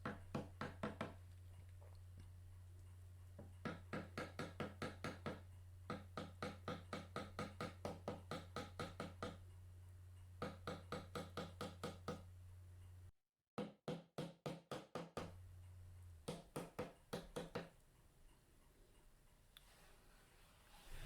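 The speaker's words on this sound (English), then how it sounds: "just finally knock in any of the protruding little pins" Rapid series of light tapping knocks in short bursts as tiny pins are driven into a handmade watchmaker's tool box, with brief pauses between runs and a steady low hum.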